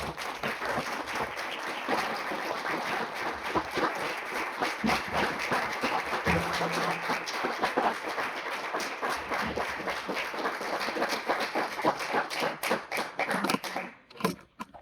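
A large audience at a university doctoral program ceremony in education applauds steadily and densely for about fourteen seconds, a continuous wash of many hands clapping that thins out abruptly at the end.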